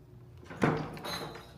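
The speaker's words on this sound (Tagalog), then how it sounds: "Ayaw na magbukas ng aming mga pinto." A door is pulled open with a single sharp thump and clatter in a quiet indoor space, followed by a softer shuffling sound.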